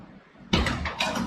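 A 1969 Boss 429 Mustang door, fitted with new rubber seals, closes with a solid low thump, followed a moment later by a second softer latch thud, close by in a quiet workshop.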